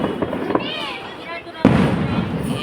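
A firecracker bursts during home Diwali celebrations with one sharp, loud bang partway through, followed by crackling. People talk over the scene before and after the burst.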